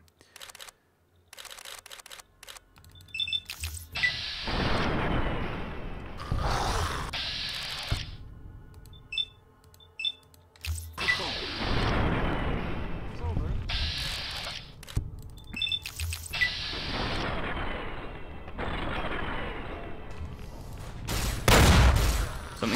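Gunfire from Fallout: New Vegas in a vault setting, where repeated game weapon shots and impacts burst loudly in irregular volleys across the clip, with no talk heard.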